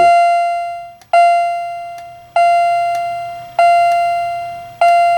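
A Wheelock CH70 fire alarm chime strobe rings five times at roughly one-second intervals, each bright metallic tone decaying before the next strike, loud and close.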